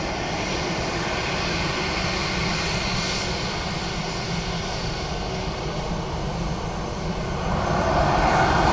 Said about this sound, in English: Aer Lingus from Birmingham next.